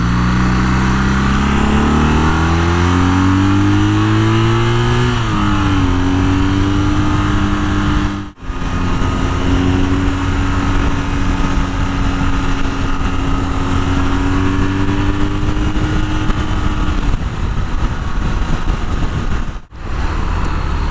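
A BMW R nineT motorcycle rides along country roads, its engine loud and close, with rising revs through the gears, a brief dip around a shift, then steady cruising drone.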